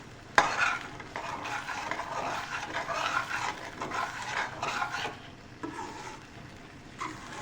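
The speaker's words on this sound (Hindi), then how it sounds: "जिस तरह हम कीमे की गोश्त की भुनाई करते हैं ना, मसाला भुनाई करते वक्त, उसी तरह आपने इसकी बहुत अच्छी तरह देखें भुनाई करनी है।" Pearl millet chutney masala being stir-fried and roasted in a pan, a continuous scraping, sizzling stir with one sharp knock near the start, then steady rustling strokes close by, with no talk.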